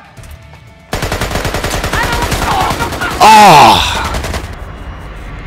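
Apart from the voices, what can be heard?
gunfire from hip firing in video game Splinter Cell: Conviction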